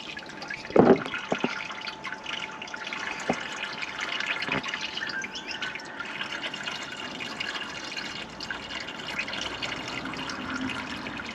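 Fluid from a Supra's AC condenser work drains into a drain bucket in a shed, a steady close trickle with a few sharper drips and splashes near the start.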